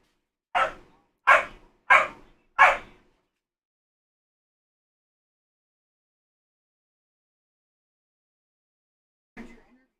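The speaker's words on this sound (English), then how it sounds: "Dogs. Oh my god. Why dogs?" A dog barks four times in quick, evenly spaced succession, loud and close, followed by several seconds of silence and one fainter, shorter bark near the end.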